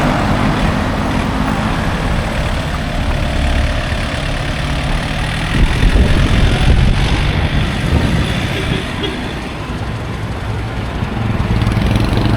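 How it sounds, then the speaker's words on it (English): A small Yanmar tractor engine idles outdoors, a steady low rumbling drone running continuously at moderate distance, with no voices over it. "A little Yanmar tractor out there."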